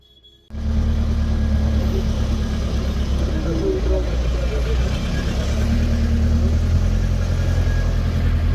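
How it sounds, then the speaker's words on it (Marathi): Loud, steady low engine rumble of a truck passing up close on the Varandha Ghat mountain road between Mahad and Bhor, starting abruptly after a quiet moment and holding near and heavy throughout. "इथे ट्रक आहे थांबा त्या ट्रकला जाऊ दे"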